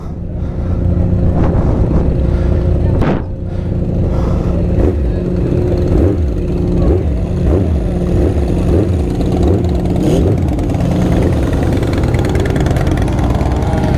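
Motorcycle engines at a large bike meet rumble loudly and continuously close by, with a low throbbing idle and some rising revs layered on top.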